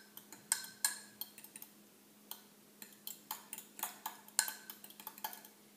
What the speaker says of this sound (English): Stir it around until you have all of the egg and milk and butter mixed together.